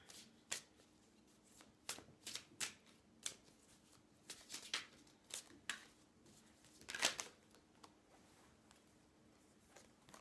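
Oracle cards are shuffled during a card reading, giving a series of soft papery riffles and taps at an irregular rhythm, close and quiet with no voices.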